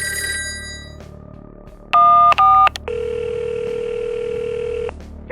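A telephone is dialed in a radio-drama scene: two quick pairs of electronic tone bursts, then a long steady tone. Everything sits over a faint low background with no talking.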